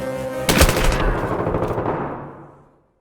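Automatic gunfire from the video game Battlefield 3 bursts out loud and close as a rapid rattling volley, then fades away into silence.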